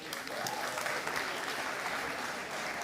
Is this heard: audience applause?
yes